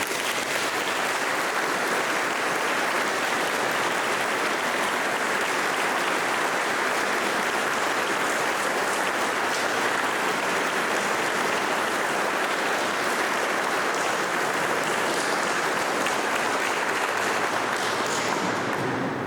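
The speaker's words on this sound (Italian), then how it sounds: "Tributerei a tutti questi coristi, se siete d'accordo, un grande applauso" A concert audience gives sustained applause for choir members, dense and even clapping that holds steady at full strength for nearly twenty seconds with no speech.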